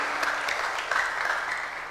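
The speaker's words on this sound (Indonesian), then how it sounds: "Kita berikan tepuk tangan dulu, saudara." Short round of congregational clapping during a Sunday church service, soft and somewhat distant, a brief patter of hands for under two seconds.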